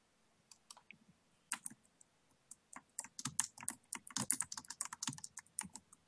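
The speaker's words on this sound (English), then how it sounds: "Sorry if you could hear the typing there." Someone types on a computer keyboard, starting with sparse clicks and building into quick, dense bursts of keystrokes, close and fairly quiet, with no other sounds around them.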